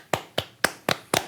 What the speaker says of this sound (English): So we're clapping our hands like this.